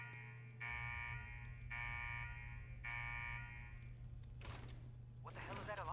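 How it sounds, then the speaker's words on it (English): An alarm blares in the Fallout 4 game world, three long, evenly spaced buzzing tones over a low steady hum, followed by voices speaking. "What the hell is that alarm?"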